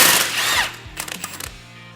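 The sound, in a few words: power tool removing nut from lower ball joint bolt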